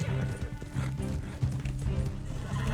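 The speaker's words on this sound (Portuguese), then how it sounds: "Mas esse outro cavalo aqui, cara, eu queria saber que cavalo que é" A horse in the Red Dead Online video game trots with rhythmic clip-clopping hooves and snorts, close and steady throughout.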